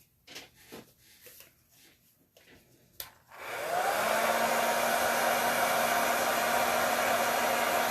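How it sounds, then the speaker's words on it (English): After some soft rustling and a click, a blow dryer switches on and runs steadily with a loud, constant whooshing hum. "I'm going to use my blow dryer to dry this"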